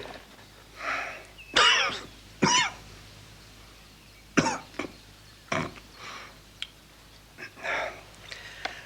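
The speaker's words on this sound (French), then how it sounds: "Toussez." Several harsh coughs in irregular bursts, a few strong and some softer, separated by quiet pauses with faint background hum.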